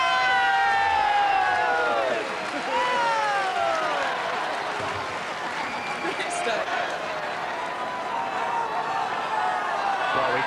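A tennis crowd gathered on Henman Hill at Wimbledon cheers and shouts loudly for Tim Henman, with whoops and whistles rising over a sustained roar. A presenter speaks over it.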